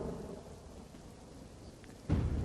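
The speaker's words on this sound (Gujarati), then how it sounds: "ભારે ગરમી અને બફારા બાદ વરસાદનું આગમન થયું" Steady heavy rain pours down with low thunder rumbling beneath it, and a louder thunder roll surges in near the end.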